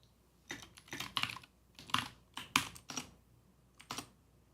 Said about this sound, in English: I'm typing it correctly.